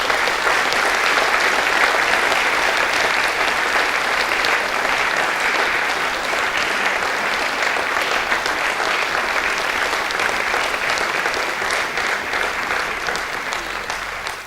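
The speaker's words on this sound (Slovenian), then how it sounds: "En aplavz, prosim." An audience in a sports hall at a municipal ceremony applauds at length, a dense steady roar of clapping that holds throughout and fades slightly near the end.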